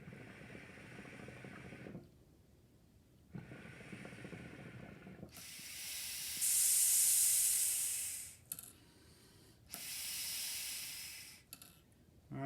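Air hisses in several bursts as a Fox Hookah Hybrid pipe with white silicone hose is purged, the loud rushing pulses separated by short quiet gaps and faint mechanical clicks.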